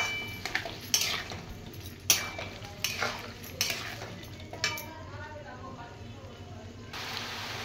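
Papaya, potato and boiled chickpeas are stir-fried together in a pan, with a low sizzle under repeated spatula scrapes and metallic clinks against the pan, irregular and close.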